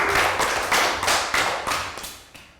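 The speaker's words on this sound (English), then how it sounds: "round of applause for crawling" A small group claps during a primary school health education lesson on movement, a few loud, separate bursts of hand claps in a loose rhythm that thin out and fade toward the end.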